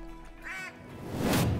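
Ducks quack on a Yukon Valley shoreline in the hunting game Call of the Wild, a couple of nasal quacks sounding fairly close, the second louder, over quiet outdoor ambience.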